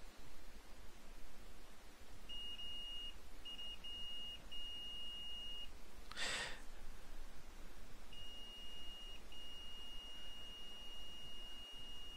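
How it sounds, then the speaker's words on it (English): A multimeter in continuity mode beeps as its probes touch the pins of an EMI filter: a steady, clean electronic tone in several short bursts, then a longer sustained beep, alone over a faint hiss with no talk. "when the 2 probes are put together, hear a beep."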